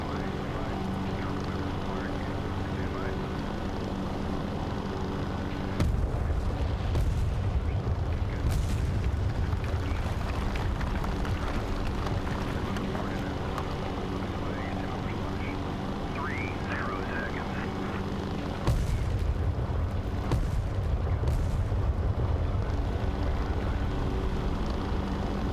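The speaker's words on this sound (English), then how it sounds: "I'm just gonna bomb the shit out of them" Video game bombs exploding on buildings during a night air raid, heard as a steady roar of aircraft noise with two heavy rumbling surges of explosions.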